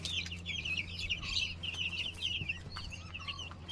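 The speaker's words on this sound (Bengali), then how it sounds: "মুরগিগুলো অনেক সুন্দর লাফালাফি করতেছে মাশাআল্লাহ।" A flock of chickens cluck and chirp continuously at close range while jumping around their coop, with soft thuds and rustling underneath.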